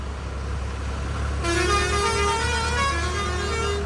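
A tractor horn blares steadily partway through, loud and sustained over a constant low engine rumble.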